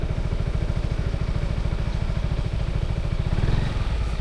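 A motorcycle engine runs steadily at idle, a rapid, even putter with a slight surge toward the end, close and alone.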